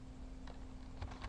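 Faint, quiet keystrokes on a computer keyboard while entering Java code, a few soft scattered taps over a low electrical hum.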